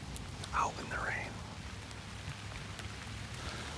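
Rain falling steadily outdoors in Michigan woods during deer season, a soft continuous patter under a tree, fairly faint, with a couple of brief brighter sounds early on.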